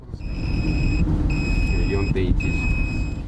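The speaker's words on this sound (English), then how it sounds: "the alarm sounds on his radiation detector" A handheld radiation detector beeps in a steady, high-pitched repeating alarm inside a moving car near Fukushima, the tone sounding in long pulses over constant road rumble and engine hum.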